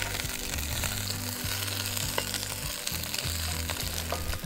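Spring onion sizzles steadily in a frying pan while being stirred, the hot fry crackling loud and close throughout, with scraping stir strokes and small pops and no talking.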